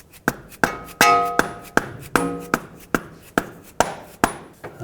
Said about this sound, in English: I'm going to grab a rubber mallet and just hammer right on the end of it